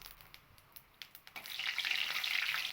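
Whole spices, dry red chilli, garam masala and cumin, fry in hot oil, with soft ticks and pops at first that build into a brighter, steady sizzle, faint and close, with no talking.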